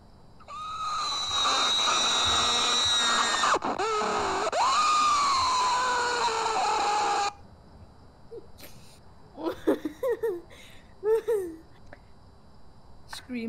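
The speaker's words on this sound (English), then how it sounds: "Scream sound effect colon funny colon." A scream sound effect plays on a Halloween stream, one long loud sustained shriek with wavering pitch lasting several seconds, then cuts off abruptly before quieter talk-like sounds follow.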